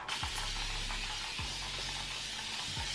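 A spray bottle mists water onto hair during a clay-mask scalp treatment, making a steady, close, continuous hiss that runs the full few seconds with no talking.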